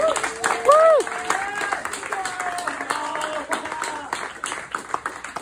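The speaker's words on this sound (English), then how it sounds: "Let's have a round of applause for them, please." Audience applause for a show's lighting team, scattered clapping with whoops and shouts rising over crowd noise and then tapering somewhat.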